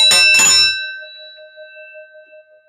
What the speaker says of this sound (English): So that's the County alarm box bell.